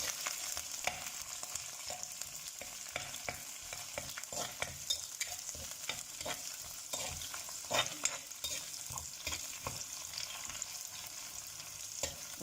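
Curry leaves sautéing in hot oil in a pan for a sardine and mango curry, a soft steady sizzle with faint scraping stirs, close and quiet with no talk.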